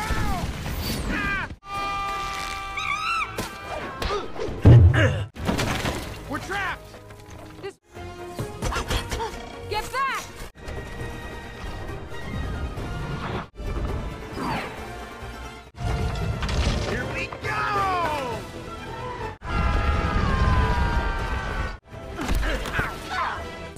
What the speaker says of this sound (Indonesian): Pada akhirnya pun meriam itu ditembakkan ke arah mereka semua.